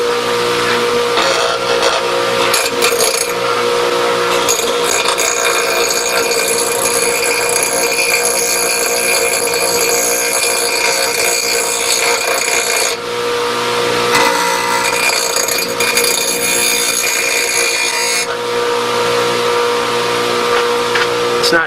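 A power grinder takes the point off a knife blade in a continuous loud, high whine that holds for the whole stretch, dipping briefly once before carrying on, with no talking.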